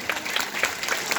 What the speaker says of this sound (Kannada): ಅವರೆಲ್ಲರಿಗೂ ಒಂದ್ಸಲ ಜೋರಾದ ಚಪ್ಪಾಳೆ ಇದೆ